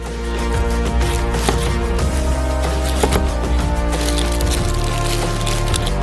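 Rapid knife taps on a cutting board as an onion is diced, over a constant loud hum with a busy, clattering texture.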